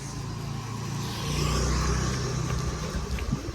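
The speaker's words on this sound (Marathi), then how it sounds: "गाडी आली पुढून" A car approaches from ahead on a road, its engine rumble swelling to a peak and then easing off, heard fairly close with no talk over it.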